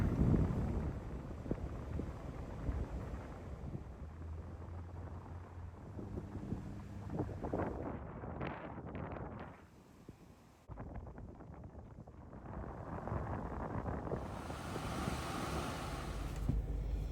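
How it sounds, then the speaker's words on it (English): Gusty wind buffets the microphone over rushing, choppy water in Sarasota, Florida, rising and falling throughout with a brief lull near the middle. "Windy and choppy today."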